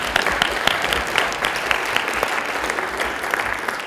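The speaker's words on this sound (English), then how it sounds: "Everybody give him a round of applause." A school audience at a senior project presentation breaks into steady, moderately loud applause that holds at an even level for a few seconds, with many overlapping hand claps.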